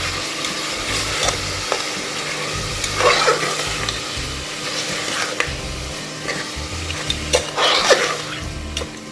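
Ginger garlic paste frying in a pan with mutton bones for a bitter gourd mutton curry, giving a steady close sizzle broken by repeated scraping stir strokes, with no talking.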